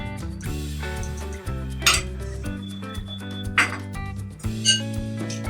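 Potato hash brown batter being mixed with all-purpose flour in a bowl: a steady run of scraping and stirring, with sharp clinks of a utensil against the bowl now and then. Close by, and no one speaks.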